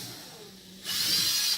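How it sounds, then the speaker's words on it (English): A power drill whirs steadily for under a second as it backs out screws while building a DIY window seat, starting abruptly after a quiet pause and running loud and close. "Jaden is going to go ahead and start unscrewing them."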